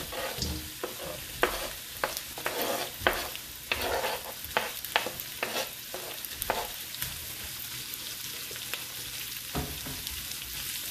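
White and red onions sautéing in a pan, with a steady sizzle and repeated sharp scrapes of stirring throughout.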